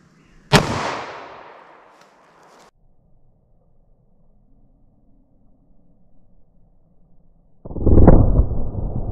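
A single sharp 10mm Auto pistol shot firing Hornady Critical Duty ammunition at a ballistic test, loud and close with a ringing decay; a second loud burst follows several seconds later.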